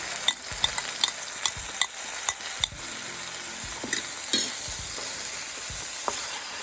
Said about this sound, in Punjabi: ਹੁਣ ਆਪਾਂ ਇਹਦੇ ਚ ਪਾਉਨੇ ਆ ਟਮਾਟਰ ਦੋ ਟਮਾਟਰ ਬਰੀਕ ਕੱਟੇ ਨੇ ਮੈਂ